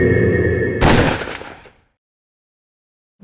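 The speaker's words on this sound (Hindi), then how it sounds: "गुस्से में गोली चल गई" A single loud gunshot in a Crime Patrol crime drama abruptly cuts through a steady tonal background, then rings out and fades over about a second into silence.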